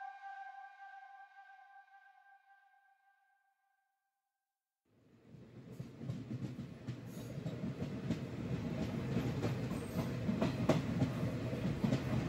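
The Coalfield Express rolls along the rails past Durgapur, a steady low rumble with faint clatter building from quiet to a loud, sustained run, following a brief tonal hum that cuts off into silence.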